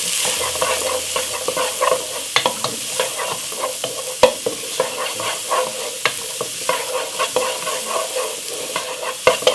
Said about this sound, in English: Saute it up.